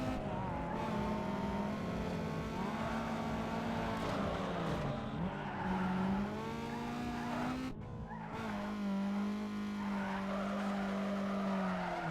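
A loud race car engine in Need for Speed Underground 2 revs and whines continuously, its pitch rising and falling, with screeching tire skids mixed in.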